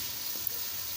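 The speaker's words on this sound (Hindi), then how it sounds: "5 से 6 मिनट तक अच्छी तरह से फ़िश को हम इस तरह से फ्राई कर लेंगे।" Fish coated in masala spices frying steadily in a pan, a continuous close sizzle with a brief pop midway and no voices.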